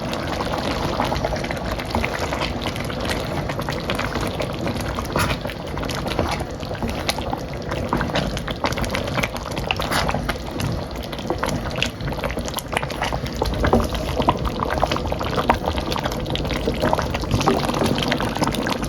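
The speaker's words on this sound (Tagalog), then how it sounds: "Tapos halu-haluin ko lang siya." Goto rice porridge stirred in a pot after two spoonfuls of flour are sprinkled in, giving a steady close wet sloshing and scraping that runs without a break, with no talk over it.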